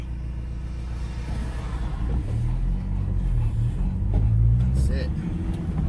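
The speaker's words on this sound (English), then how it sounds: "Come on, too much traffic." Road traffic rumbles past in a continuous low drone that swells toward the end, with someone talking over it and a dog along for the ride.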